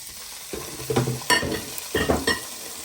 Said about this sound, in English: we'll start frying our diced pork